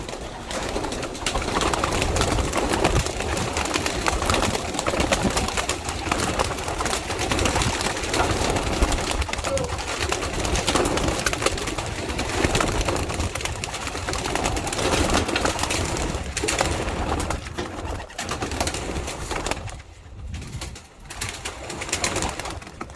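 Pigeons coo steadily around a racing pigeon loft outdoors, a dense, continuous murmur of calls over a broad outdoor hiss that lasts nearly the whole stretch, with a brief dip near the end and no talking.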